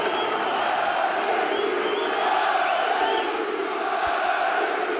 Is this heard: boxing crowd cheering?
yes